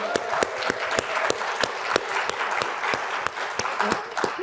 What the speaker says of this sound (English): let's give a round of applause for the 10th anniversary.